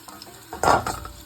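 Meat and sausages sizzle in a pan with stirring and scraping, a brief louder burst of frying midway, close by and without talk.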